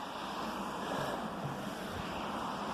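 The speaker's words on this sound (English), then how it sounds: "This is the new waterfall." Water rushes at the new waterfall by Elsecar Reservoir, a steady broadband roar heard from nearby with some wind, no voices.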